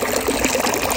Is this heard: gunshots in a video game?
no